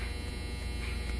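A clothes dryer runs with a steady, low droning hum and faint buzz, constant and unbroken throughout, with no voices.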